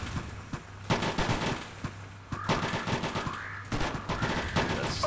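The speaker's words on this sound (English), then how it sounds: "That tank is shooting us over." Tank cannon and machine-gun fire in the military shooter ARMA 2: Combined Operations, heard as repeated sharp bursts and distant booms spaced through the stretch, fairly faint, with no talk over them.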